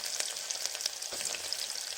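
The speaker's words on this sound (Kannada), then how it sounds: "ಇವಾಗ ಎಣ್ಣೆ ಒಳಗಡೆ ಈರುಳ್ಳಿನ ಹಾಕೊಳ್ತಿದ್ದಾರೆ." Onions sizzle as they fry in oil and butter for biryani, a steady crackling hiss dotted with quick spitting pops, close and moderately loud, with no voices.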